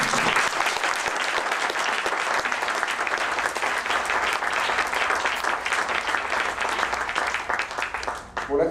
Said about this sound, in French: Donc je vous demande de les applaudir.